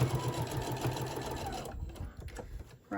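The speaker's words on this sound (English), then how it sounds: "I'm gonna keep sewing" Sewing machine stitching the ear of a handmade bear, a rapid mechanical whirring for under two seconds, then it stops, followed by light handling clicks.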